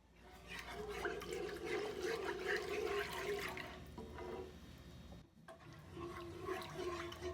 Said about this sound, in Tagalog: Mag-a-add tayo ng water.